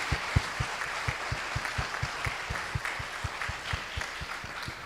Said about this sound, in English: I would like you to give all of our speakers one big round of applause as